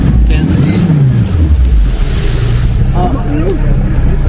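A boat's motor drones steadily with wind and water noise, its pitch rising and falling as the engine is revved on a monkey island tour in Panama, with faint voices in the background.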